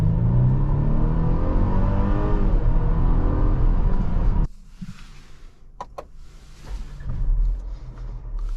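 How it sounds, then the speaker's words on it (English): Loud engine roar from a 2023 Mercedes-Benz GLC300 Coupe under acceleration, steady and strong for about four seconds, then cutting to a quieter cabin hum with a few clicks. "We are going to get a little bit of an acceleration test right here."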